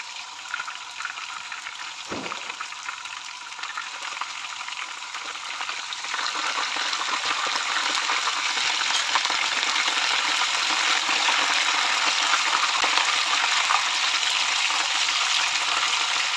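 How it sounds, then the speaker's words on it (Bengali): Chicken kofta balls frying in hot oil for a dinner of kofta and vegetable fried rice, a steady broadband sizzle that grows louder and denser after the first few seconds and continues without speech. "তেলটা গরম হয়ে গেছে, আমি একটু ভেজে নিচ্ছি"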